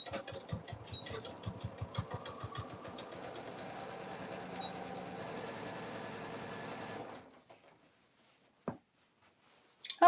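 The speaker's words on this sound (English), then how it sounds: "I am going to backstitch at the top here." A sewing machine stitches a canvas tote seam, backstitching at the top, with a fast steady mechanical whir and rhythmic needle clatter. It runs for about seven seconds, stops, and is followed by a couple of faint clicks.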